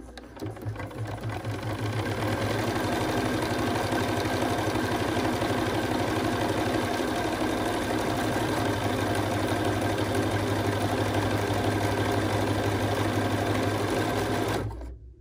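A BERNINA B 215-series sewing machine stitches an automatic buttonhole in one steady, continuous mechanical whir with a rapid needle rhythm, running loud and close for about fourteen seconds before stopping abruptly.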